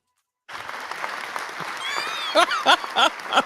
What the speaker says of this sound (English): Hand claps, please.